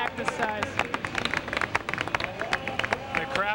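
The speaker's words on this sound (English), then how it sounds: "The crowd here at the start-finish line beginning to respond" Spectators clap and cheer at the start-finish line as cyclists in a 1988 Carolinas Invitational race approach, with scattered sharp claps and crowd noise under a commentator's voice.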